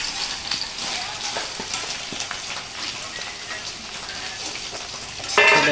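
Onions sizzle and crackle steadily in a hot pan, a dense frying hiss with occasional pops and stirring, close and fairly loud.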